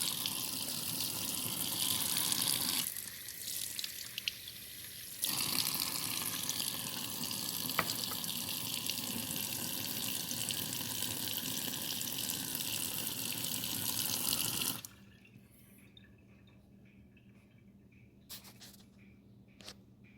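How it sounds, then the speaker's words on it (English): Water pours into a cup holding a stevia plant in a steady, hissing stream for several seconds with a short pause, then stops, leaving quiet room sound with faint clicks. "I'm going to put a little bit more water in there."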